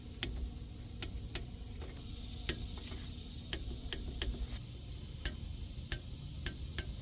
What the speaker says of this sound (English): now we need to grab our torque wrench and torque these bolts down